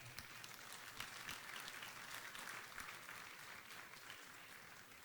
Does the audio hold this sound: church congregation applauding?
yes